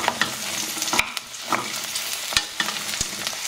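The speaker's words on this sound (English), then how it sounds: "And just keep frying them gently and stirring them around a bit." Chopped vegetables such as broccoli, beans and lettuce fry gently with onions in a pan, a close steady sizzle broken by intermittent scraping and clacking as they are stirred, with no talking.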